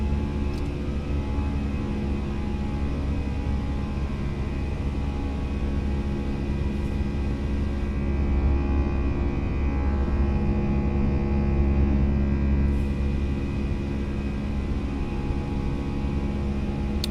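Airbus A320 engines at climb thrust in the Fenix flight simulator, a steady loud broadband roar with sustained tonal hum filling the whole stretch, no talking.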